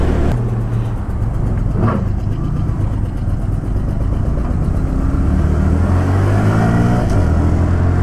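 A 2018 Honda Grom stunt motorcycle cruising around town, its small single-cylinder engine droning loud and close with steady throttle changes and wind rumble, no talking.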